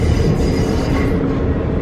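A train runs on its rails in a steady, close rumble with faint wheel squeal and rattling, continuous and fairly loud with no voices.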